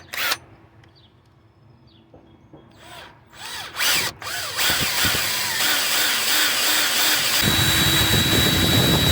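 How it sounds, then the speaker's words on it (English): Power drill boring out a part on a Nissan Rogue 2.5 during suspension repair, short starts and spins, then a loud sustained whining drill run that grinds on steadily, close and alone. "So I will have to drill it here because it won't come out"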